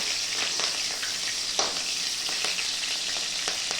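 Green chillies fry in a hot pan for an onion-greens dish, giving a steady, close hiss of sizzling oil broken by a few soft stirring clicks and scrapes.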